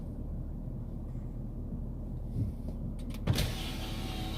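A car pulling up at a house to collect someone, its low engine rumble steady throughout, with a couple of soft thumps and a brief rise near the end; no one speaks.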